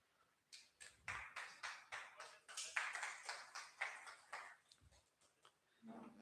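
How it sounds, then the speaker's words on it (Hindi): Workshop participants at a Jeevan Vidya Parichay Shivir camp in Acchoti, Durg, clap together in a steady rhythmic beat at moderate distance, tapering off near the end as a voice briefly begins. "तालियां तो आप सबके लिए बननी चाहिए"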